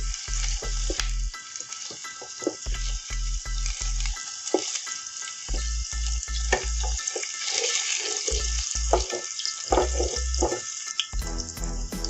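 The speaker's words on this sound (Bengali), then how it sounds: "ভালো করে ভেজে নিচ্ছি" Loud, continuous sizzling of paneer frying in hot oil, close up, with occasional crackles and pops and a low hum underneath.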